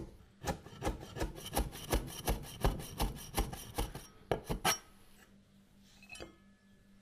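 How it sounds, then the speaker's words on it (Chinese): A kitchen knife cuts ginger into thin shreds on a wooden board, giving about a dozen crisp, evenly paced chopping taps close up, then a brief pause and faint handling sounds, with no talk. "姜切成姜丝儿。"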